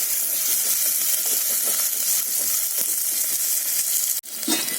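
Shallots and green chilies sautéing in a pan, a steady close sizzle with soft stirring scrapes throughout and a brief sharp clatter near the end.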